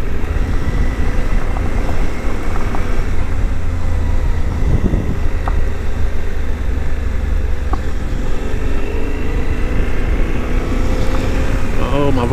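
A Suzuki V-Strom 800 DE motorcycle riding a gravel road sends out a steady engine drone mixed with heavy wind rush and a crunchy rumble from the tires, loud and continuous, with a voice speaking faintly underneath.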